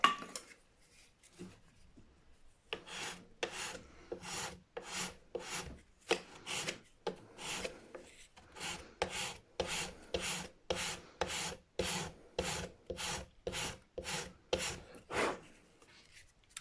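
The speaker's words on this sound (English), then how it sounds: "I don't think this Corian likes my crowning file very much" A crowning file rasps across a Corian nut on a Gibson Les Paul guitar, making about two dozen steady back-and-forth strokes in a brisk, even rhythm after a few quiet seconds, close and dry with no talk.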